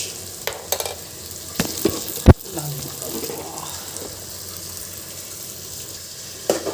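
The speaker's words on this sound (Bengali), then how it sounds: "আদা রসুনটাকে সুন্দর করে ভেজে নিতে হবে" Ginger-garlic paste frying in a pan with cumin, coriander and chili added, a steady low sizzle with a few sharp clinks and scrapes of stirring, close by and moderately loud.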